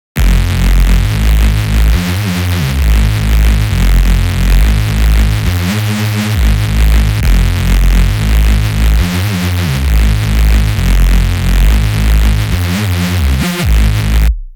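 A loud, dense buzzing detuned saw-wave synth bass from Serum, heavily processed, drones continuously with a gritty texture, its tone pulsing and shifting in a repeating pattern before cutting off.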